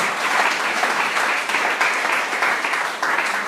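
A church congregation applauding steadily for several seconds, dense continuous clapping with no pauses, fairly loud and close.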